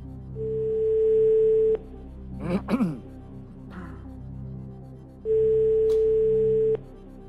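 A telephone line ringing through before a call on a French TV quiz show connects: two long, steady electronic ring tones, each about a second and a half, with a brief throat-clearing between them.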